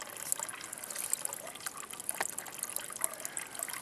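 A small stream of spring water runs from a pipe, a continuous close trickling and splashing with a steady bright texture and no talk.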